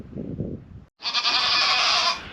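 Goats bleat outdoors on a windy, gray homestead day, a loud sustained cry following a brief low rumble of wind or footsteps and a short pause.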